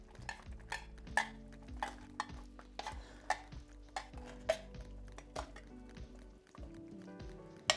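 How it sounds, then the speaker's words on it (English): Drained cannellini beans are stirred in a bubbling pan, and the spoon scrapes and knocks at a steady, repeated pace over a soft, continuous simmer. "Give them a stir."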